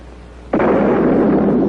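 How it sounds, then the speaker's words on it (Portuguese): A cannon fires a single deep boom on a 1949 documentary soundtrack. The blast hits suddenly after a quiet moment and rolls on as a loud, sustained rumble. "capaz de ouvir o troar de um canhão"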